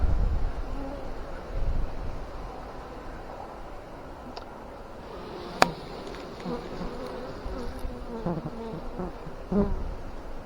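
A steady, dense buzzing of many honeybees at an open hive hums throughout, close by, with occasional light knocks and faint wind noise.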